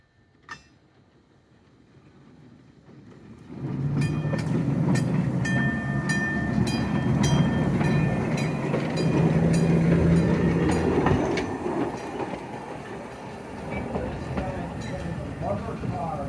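Vintage trolley car 31 of the Biddeford and Saco Railroad, running at the Seashore Trolley Museum, rolls in with rising rumble and clicking rail noise, a steady moderate roar with a faint squeal, and a voice talking beneath it.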